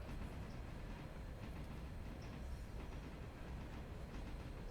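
Train in the video game Railroader rolling along with a low, steady rumble and faint rhythmic rail clatter, quiet and continuous, no speech.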